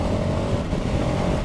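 KTM 1290 Super Adventure S V2 motorcycle engine running at steady revs, a loud dense rumble with a faint whine, no talking.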